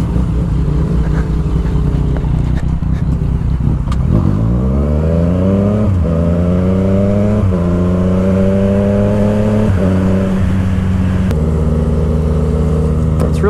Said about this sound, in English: really fun riding with no clutch cable on a bike like this